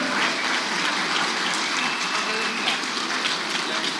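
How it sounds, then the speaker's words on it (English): An audience at an XRP community event gives a sustained round of applause, a dense, even wash of clapping that continues steadily without voices. "Let's give him one more round of applause"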